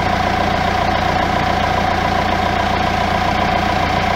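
A Renault Espace 4 engine idling while its cooling system is being flushed after a water pump leak: a loud, steady, even rumble with a constant hum and no talking.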